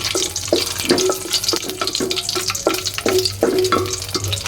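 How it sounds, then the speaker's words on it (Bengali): Bay leaf, garam masala and dried chili fry in oil under a spatula, giving a steady sizzle with regular scraping strokes about twice a second, close and fairly loud. "একটু সুন্দর করে ভেজে নেবে তেজপাতা, গরম মশলা আর শুকনো মরিচটা"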